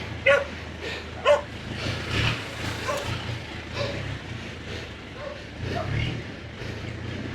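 A dog barks nearby in a village setting, a few sharp separate woofs early on followed by softer yips and whimpers, with people talking in the background.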